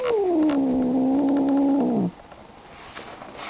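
A pet cat lets out one long drawn-out meow that slides downward and holds for about two seconds before cutting off, close and clear, followed by quiet room tone.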